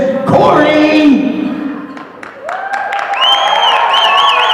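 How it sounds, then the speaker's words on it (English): Crowd applause for Corey, the wrestling referee, at a Wrestle Club show during BTCC Day One 2019, a short burst of clapping and cheering under a ring announcer's voice. "good round of applause for him"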